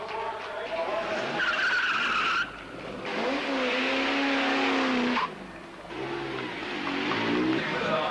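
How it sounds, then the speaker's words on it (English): Rally cars race flat out on a 1992 TARGA Tasmania stage, engines screaming and shifting pitch as they rush past close by, with tire skids and bursts of hard acceleration. A voice may be faintly audible beneath. "The cars leave at 30-second intervals, slowest first, to keep the field compact over the day's racing."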